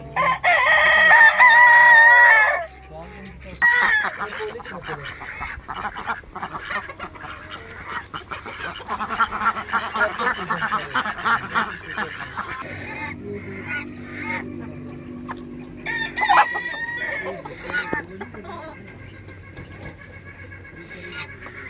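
On a farm keeping different breeds of chickens in Azad Kashmir, a rooster crows loudly up close, followed by a busy mix of clucking hens and other fowl calls, with occasional faint talk.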